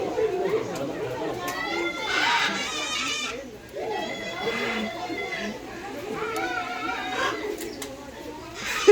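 Birds coo and chatter throughout, seemingly pigeons or doves, in a busy outdoor setting with a faint crowd and children in the background, and people talking close by over the calls.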